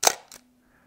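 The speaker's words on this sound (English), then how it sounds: "The shutter is noisy but satisfying." A Zenit TTL film camera shutter fires once, a sharp loud snap followed a moment later by a softer second clack, then quiet.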